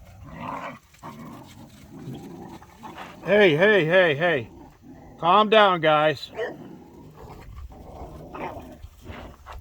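Two pet dogs, one named Patches, let out loud bursts of rough play-growling and yipping close by, two separate bouts a couple of seconds apart, while someone speaks to them in between.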